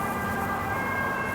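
An emergency vehicle siren wails steadily nearby, loud and continuous through the whole brief moment, with no talk over it.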